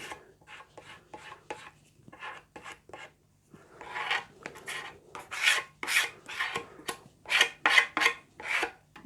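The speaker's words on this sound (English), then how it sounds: "it's simply just a matter of putting a fine coat on with a plastic squeegee." Plastic squeegee spreading clear grain filler onto the wood of a scratch-built guitar: a series of short rasping scrapes in quick strokes, close by, growing louder and denser toward the end.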